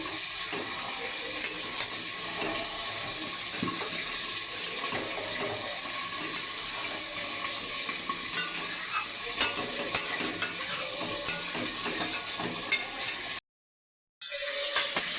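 Chicken curry with Kashmiri chilli powder sizzling and frying steadily in a pan while being stirred, a continuous close hiss with small scraping stirs throughout and a brief drop to silence near the end.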